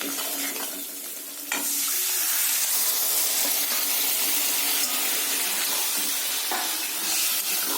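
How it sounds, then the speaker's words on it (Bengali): Pressure-cooked bottle gourd is tipped with its cooking water into hot fried spices, setting off a sudden loud, hissing sizzle that holds steady and close for several seconds with a little stirring, and no voices. "এবার প্রেশার কুকারে সেদ্ধ করা লাউটা আমি এই জল সমেত দিয়ে দেবো।"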